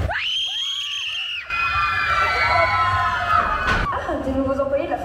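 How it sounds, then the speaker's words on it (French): A convention crowd shouts and screams loudly together, high excited voices rising over a dense wall of chatter and cheering, with a sharp bang partway through. "on va gueuler comme des tarés"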